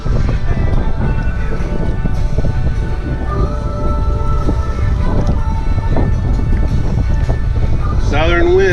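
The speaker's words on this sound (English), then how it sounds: "Really makes it hard to do work when you have a south wind" Strong south wind buffets the microphone in a continuous low, rough roar with no letup, and a brief voice rises at the very end.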